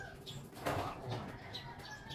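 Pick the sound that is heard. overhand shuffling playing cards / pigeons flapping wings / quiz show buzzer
pigeons flapping wings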